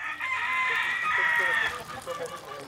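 A fighting cock at a cockfight gives a single strong crow at close range, with a rough, drawn-out call over faint background noise.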